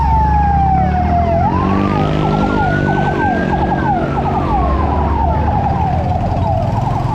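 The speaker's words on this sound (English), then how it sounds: "Oh, now we got an ambulance." An ambulance siren wails loudly nearby on a street in Bonifacio Global City, Manila, sweeping up and down over steady traffic rumble.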